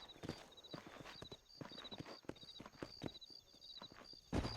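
Horse hooves clip-clop steadily in Red Dead Redemption, several horses walking near Armadillo in a stretch of open frontier, hoofbeats moderately loud and rhythmic over a low ambient bed, with a heavier thump near the end.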